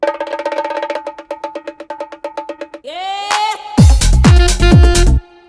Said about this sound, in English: have this clap that's being played right before we go into the chorus